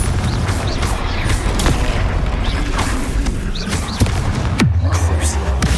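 Explosive Confringo spell blasts from combat in the video game Hogwarts Legacy, a dense barrage of booms and crackling impacts with one deep, heavy blast near the end, loud and close, with no speech.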